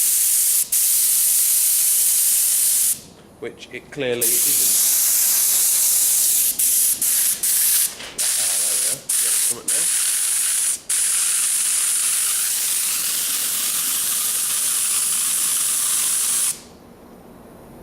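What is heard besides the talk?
compressed air spray gun spraying oil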